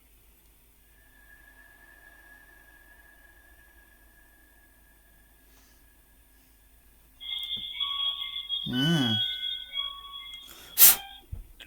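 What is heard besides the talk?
snapping sound and beeps from a REM pod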